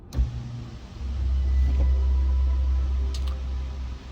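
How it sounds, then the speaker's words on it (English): Inside a 2023 BMW 840i, a low electric motor whirs steadily for several seconds over a deep rumble as the sunshades lower, with faint clicks near the start and end. "you will hear all the sunshades drop"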